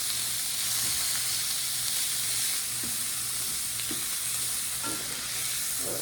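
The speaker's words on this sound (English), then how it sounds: "Get all the browning done." Ground meat browns for taco-stuffed shells, sizzling loudly and steadily in a hot pan with occasional stirring scrapes, close up and without talk.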